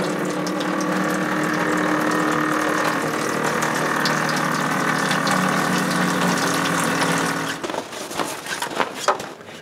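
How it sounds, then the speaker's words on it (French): Hand pump drawing water at a cabin in March: a continuous, loud mechanical grinding and ratcheting churn near at hand, ending in a few irregular clanks and knocks as the pumping stops. "je pompe de l'eau"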